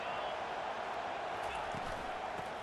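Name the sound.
football stadium crowd noise on third down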